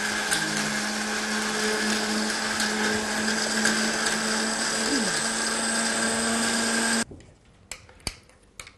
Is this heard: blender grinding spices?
yes